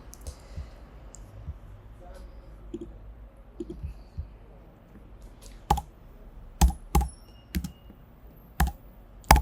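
Typing on a computer keyboard while filling in an online company registration form: light scattered clicks at first, then several loud, sharp isolated key strikes spaced about a second apart, close up.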